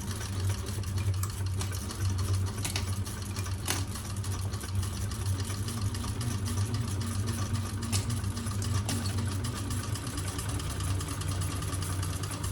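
A sewing machine stitches a fabric bag with a steady, fast mechanical whir and rhythmic needle chatter, running continuously and close by with a few soft clicks and no talk.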